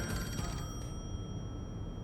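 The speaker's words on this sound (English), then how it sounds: "We're getting a phone call." In the Rain Code video game, a telephone rings with a bright, repeated trilling bell over a dense, loud music bed, with no voices.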